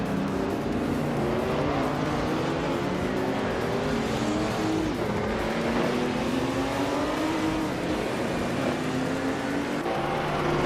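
Group 4 race car engines in a racing video game, including a 1975 BMW CS on a tight street circuit, a steady loud roar with rising and falling revs through gear changes, several cars together.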